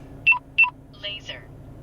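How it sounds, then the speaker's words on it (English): A Uniden R7 radar detector mounted in a car sounds two short, sharp electronic beeps followed by a pair of warbling alert tones, close and clear over a low in-cabin hum. "give it a test run with my radar detector"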